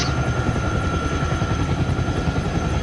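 A helicopter flying fast roars with a loud, continuous rotor chop and engine whine that stays steady and close the whole time, with no speech.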